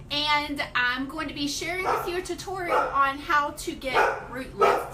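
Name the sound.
puppies barking in the background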